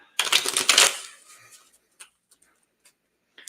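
A quick burst of tarot card shuffling, a rapid riffle of crisp flutters lasting under a second, followed by a few faint taps and clicks in a quiet room.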